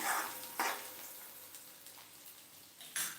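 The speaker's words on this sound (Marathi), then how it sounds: "तेला चांगला लालसर होईपर्यंत परतून घ्यायचा" Chopped onion sautéing in hot oil in a pan until reddish, a soft continuous sizzle with a few louder stirring scrapes at the start and end, no voices.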